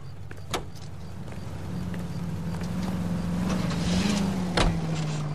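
A car in L.A. Noire drives along with a steady, low engine hum that rises slightly in pitch as it accelerates, with a couple of faint knocks or clicks over the top.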